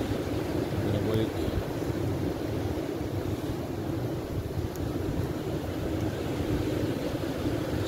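Side-on wind blows across Frinton beach in the evening, a steady loud rush and buffeting against the microphone that holds without a break for the whole stretch.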